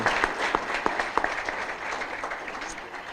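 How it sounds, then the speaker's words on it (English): Applause for state representatives and senators at a regional legislative forum: a room of hands clapping steadily, with a few sharp individual claps standing out early before the sound eases into an even patter. "Let's give them a round of applause."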